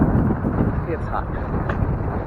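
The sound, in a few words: wind blowing into microphone while cycling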